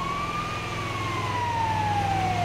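An ambulance siren wails loud and steady in GTA 5, sweeping slowly in pitch over a low engine rumble.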